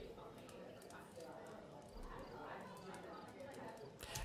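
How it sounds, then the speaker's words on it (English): Layered background ambience blends crackling fire, chirping birds and the murmur and clatter of restaurant diners at a meal, a dense, faint wash of texture with indistinct voices throughout. "this is actually a combination of fire, birds, and people having a meal at a restaurant"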